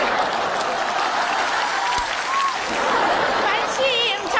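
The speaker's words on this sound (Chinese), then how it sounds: "鼓掌鼓掌！ 掌声！" Dense, steady applause from a live audience at a televised Chinese comedy sketch show, sustained for the full stretch, with scattered voices and cheers mixed into the clapping.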